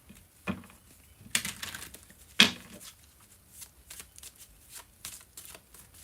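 Tarot cards being shuffled by hand in a quiet room, with several crisp riffling bursts and soft patters of cards sliding together, close and fairly quiet.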